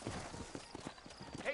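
Horse hooves clip-clop in a quick, steady trot in the Western game Red Dead Redemption on PS5 Pro, close and even over a low background murmur of voices.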